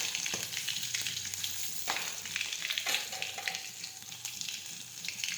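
Curry leaves hit hot oil with asafoetida and chilies for urad dal, giving a steady close sizzle and crackle that swells with a few sharper pops and faint stirring over about five seconds.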